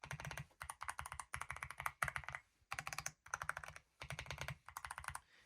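A mechanical keyboard in a video editor's desk setup is typed on in rapid bursts of crisp, clacky keystrokes. Short pauses separate the bursts, and the clacks are close and clear with no talking.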